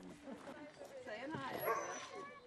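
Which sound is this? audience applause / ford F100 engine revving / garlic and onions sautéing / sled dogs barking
sled dogs barking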